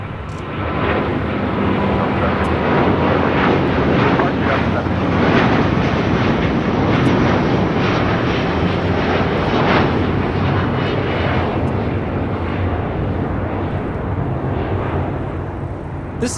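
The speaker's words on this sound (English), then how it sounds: "This is Delta Airlines Flight 7 taking off to Tokyo, Haneda on a 1-year-old A330 Neo." A one-year-old Delta Airbus A330neo takes off from LAX for Tokyo Haneda, its engines thundering loudly and close in a long, sustained roar with some wind buffeting and a swelling, rumbling texture.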